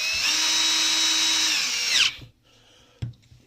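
A rotary hammer drill with a knocked-out piston, opened for a gearbox oil change, runs in hammer mode with a high, steady motor whine for about two seconds, then winds down, followed by a few handling knocks.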